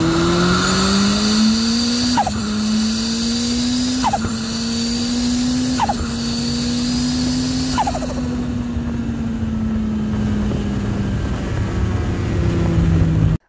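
A turbocharged car engine revving hard and climbing through several gear changes, each shift marked by a brief drop, then a steady high drone as it cruises.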